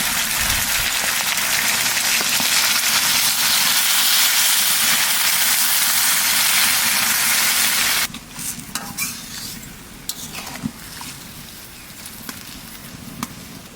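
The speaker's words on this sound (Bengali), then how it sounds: "এখানে জল দিয়ে দেবো" Water is poured into a pan of sizzling bacha fish and spice masala, producing a loud, steady hiss for several seconds that drops abruptly to softer bubbling and scattered crackles.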